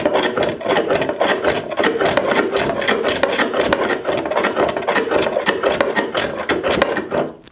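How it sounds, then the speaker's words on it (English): Hand tool takes shavings off a wooden tenon held in a vise, a rapid rhythmic series of close, loud rasping strokes, evenly repeated for several seconds with no talk. "I'm just going to take a few shavings off of that tenon"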